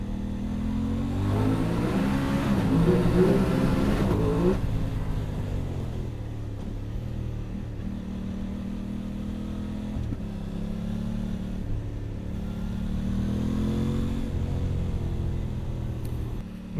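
A 2022 Aprilia Tuono 660 Factory motorcycle engine revs and pulls through rising and falling gears, a throaty mid-pitched drone under steady wind rush, loud and continuous from the rider's position.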